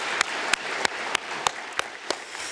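A congregation at a Korean church worship service for people from the Yongcheon region claps together, with a steady wash of applause and several sharper rhythmic claps in unison, moderately near.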